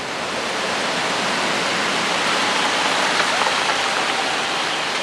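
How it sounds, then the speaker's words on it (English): Heavy, steady rain pours down in a dense, even hiss with no breaks. "Lots of rain."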